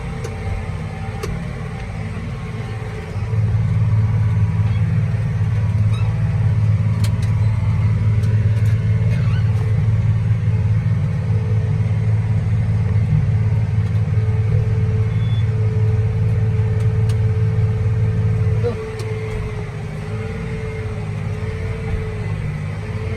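A vehicle engine runs steadily in sixth gear over bumpy ground during field planting work, a loud, close, low rumble that swells after the first few seconds and holds before easing back near the end. No one speaks.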